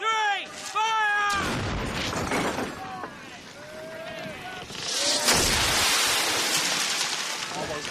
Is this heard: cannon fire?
yes